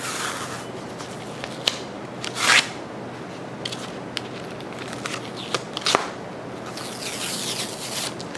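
A used sandpaper disc is peeled off a Teflon grinding platen during metallography specimen grinding, giving crackling, tearing rasps with a few sharp rips, close and fairly loud over a steady background hum.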